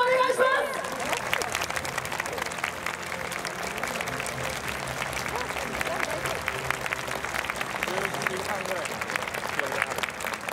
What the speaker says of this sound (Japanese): ファイナリストの皆さんに心の底から盛大な拍手をお願いします。